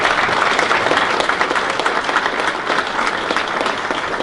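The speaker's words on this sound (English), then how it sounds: "Give everybody a round of applause." Audience applause at an Eli celebration event, dense sustained clapping from a large crowd filling the whole stretch at steady loudness, with no talk over it.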